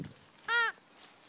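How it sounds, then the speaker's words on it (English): A macaw gives a single loud, harsh, harmonic call lasting about a quarter second, close by in the rainforest, with quiet forest ambience before and after. "hear the call of the macaws somewhere near us in the rainforest"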